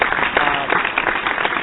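A canned applause sound effect plays on a radio show, a steady, dense burst of crowd clapping with a narrow, broadcast-like tone, brief and fairly loud.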